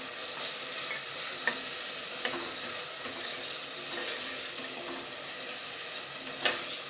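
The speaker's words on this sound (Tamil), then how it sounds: "கட் பண்ணி வச்சுருக்க தக்காளி ஆட் பண்ணிக்கோங்க" Chopped tomatoes sauté for vegetable biryani under a constant hissing sizzle, with occasional soft stirring scrapes, close and steady throughout.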